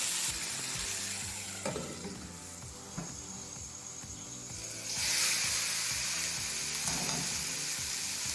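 Beef cannelloni filling sizzles and simmers in a covered pan on medium heat, a continuous close frying crackle with a few soft clinks and a brief louder burst of hiss partway through.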